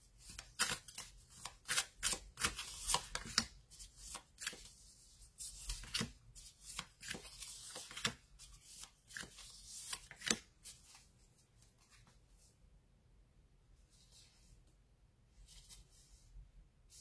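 Tarot cards shuffled by hand before a final draw, a close run of quick riffling and slapping bursts that thins out into a few soft handling sounds near the end.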